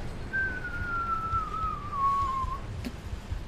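A human voice imitates an incoming shell whistle from the War Thunder video game, a single clear falling tone lasting about two seconds over quiet background noise.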